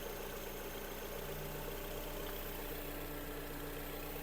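A 2008 Volkswagen Golf V 1.6 MPI engine, running on LPG, idles steadily and evenly, a continuous low rumble with no breaks and no other sounds.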